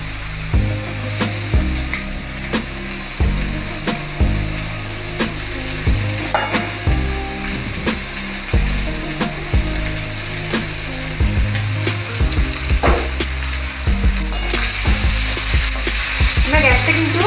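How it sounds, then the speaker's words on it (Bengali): Rice and fried vegetables for restaurant-style egg fried rice are tossed in a hot pan over a low gas flame, giving a loud, continuous sizzle broken by repeated sharp scrapes and clanks of the spatula. "অল্প করে ভাত দেব আর সবজির সাথে মিশিয়ে নেব"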